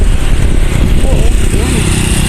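A motorcycle engine runs steadily at close range for a couple of seconds, a loud, continuous motor drone beside a seaside walk, with voices in the background.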